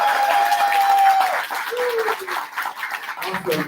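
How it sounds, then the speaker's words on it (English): An audience at a congressional coffee chat applauds, with dense, loud clapping at first, then thinning into scattered claps alongside crowd murmur and a voice speaking over it. "let's give them a big round of applause"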